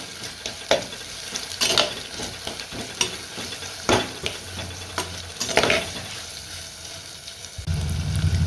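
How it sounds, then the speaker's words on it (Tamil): Tomatoes sauté in hot oil for a village-style anchovy fish kulambu, a close sizzle broken by repeated spoon scrapes and clinks against the pan, ending in a low rumble. "இப்போ தக்காளி சேர்த்து நல்லா வந்து வதக்கி விட்டுடுவோம்"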